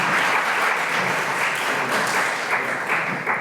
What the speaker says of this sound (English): You can go ahead and give a round of applause if you'd like.